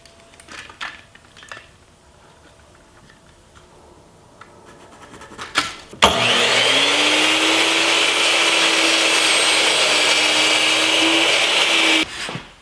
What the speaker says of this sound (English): I'll cut this piece of molding at 7 1/4 inches on the inside measurement.